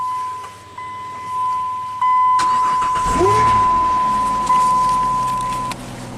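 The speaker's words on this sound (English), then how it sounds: "Test light should light up and the starter should spin when I crank this thing over" A no-crank car with a broken wire is cranked over by its starter after the key is turned on: a steady tone and a click, then a loud, continuous whirring churn that runs for several seconds, close up.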